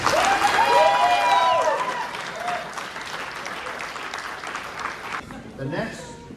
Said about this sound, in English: big round of applause for these great ladies